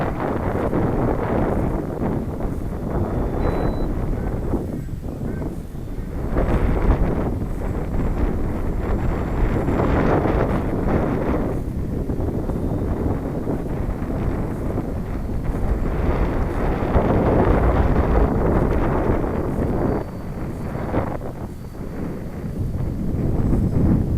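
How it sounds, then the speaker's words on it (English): Strong wind buffets the microphone on a windy morning, a loud, continuous roar with gusts swelling and easing throughout. "It's just getting a little bit too windy, I think."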